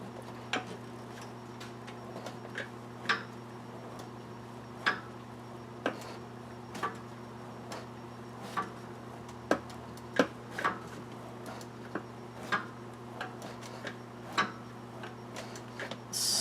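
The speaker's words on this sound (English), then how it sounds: "I've got the ratchet." A ratchet works a starter bolt on a 2010 Ford F150 truck, giving sharp, evenly spaced single clicks, slow and steady, close and fairly quiet over a low background hum.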